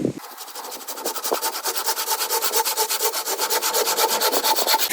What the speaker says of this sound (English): This time we're going to use a handsaw.